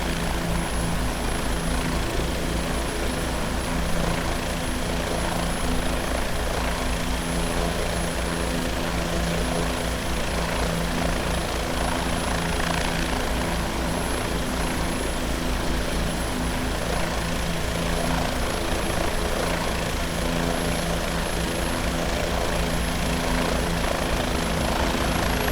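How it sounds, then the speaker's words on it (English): A Bell 407 helicopter in the X-Plane 11 flight simulator drones on with a steady turbine whine and rotor thrum, loud and unbroken from start to finish with no talking. "I do like the sounds on this thing."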